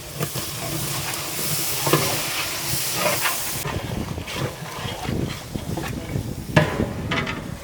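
Tomatoes dropped into hot oil with onions for a large batch of chicken biryani, a dense crackling sizzle mixed with stirring clatter, loud at first and then easing to a softer fry.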